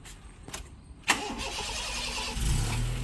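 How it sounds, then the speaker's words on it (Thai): A Honda Jazz engine cranks briefly, catches and settles into a steady idle, with a rising rumble near the end; nearby and moderately loud. "สตาร์ททีเดียวติดนะครับผม"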